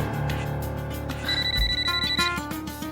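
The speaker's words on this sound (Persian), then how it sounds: "آزاد زنگ زده" A telephone rings indoors, a bright electronic tone pattern repeating over a dense layer of background music, with no speech.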